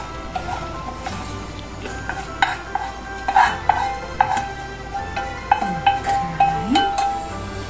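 A wooden or metal spoon stirs pasta in a big pan with cooked champignon mushrooms and speck, giving irregular scraping knocks and soft clatters over a faint background sizzle, with no voices.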